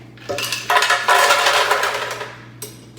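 Ice cubes tumble into a blender jar for a blackberry smoothie, a loud burst of clattering, rattling impacts for about two seconds, tapering off with one last clink; a steady low hum runs underneath.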